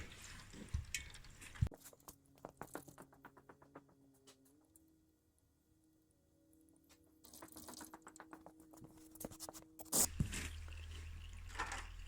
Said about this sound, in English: well, we have the oil draining